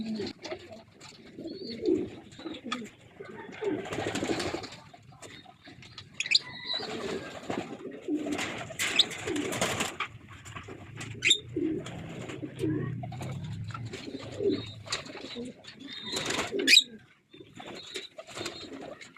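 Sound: pigeons cooing

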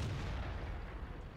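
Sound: artillery fire in World of Tanks video game

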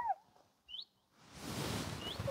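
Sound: bird chirping

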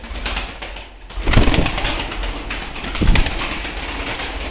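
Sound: young pigeons

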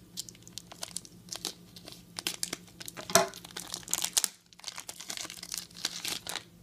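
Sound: cutting open plastic wrapper with scissors

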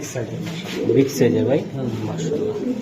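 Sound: racing pigeon cooing

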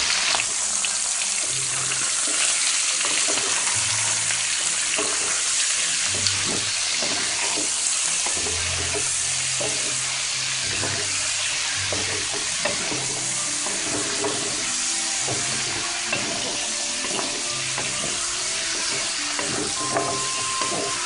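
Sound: pork belly frying in its own rendered fat

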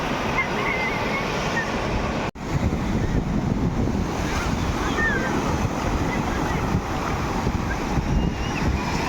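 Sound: ocean waves breaking on Marina Beach, Chennai

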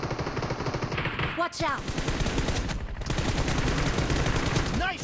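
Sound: gunfire in the video game BGMI

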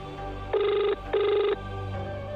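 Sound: telephone ringing in a horror comedy video game

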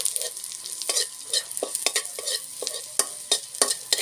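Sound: garlic sautéing in a pan

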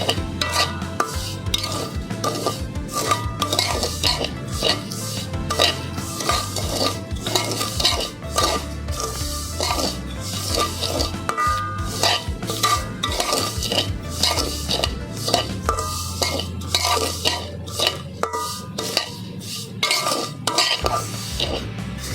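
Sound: frying vermicelli (semai) slowly in a pan

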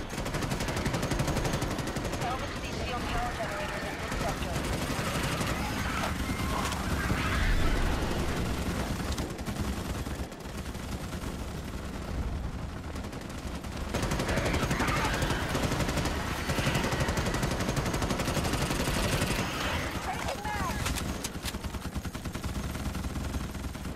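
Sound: gunfire, friendly fire in Starship Troopers: Extermination video game

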